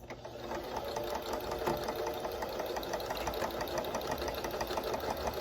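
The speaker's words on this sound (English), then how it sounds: "We're going to take it to the sewing machine and we're going to sew a 1/4 inch seam allowance down this strip." A sewing machine stitches a quarter-inch seam down a string quilt strip, a steady rapid mechanical whirring hum that runs continuously and close up with no talking.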